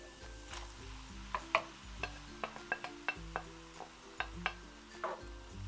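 Soft scraping and tapping of a spoon stirring diced tomatoes in a pan, irregular strokes over a low, quiet background.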